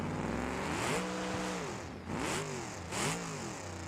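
A turbocharged Toyota V8 in a video game car with its exhaust removed revs loudly in three rising-and-falling pulls, each climbing in pitch then dropping back, close and continuous with no talking.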